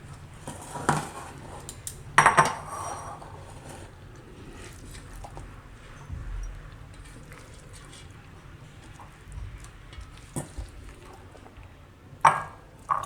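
Coconut and cucumber salad being scraped from a bowl into another dish, with sharp clinks of a spoon against metal vessels at a few moments and soft scraping and shuffling between them, close and fairly quiet, no talk.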